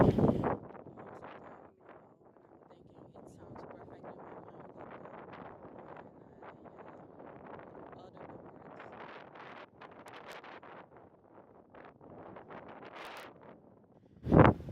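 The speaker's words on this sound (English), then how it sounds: "It's very windy." Steady broadband wind rumble buffeting the microphone for the whole stretch, with a louder gust thump at the start and end.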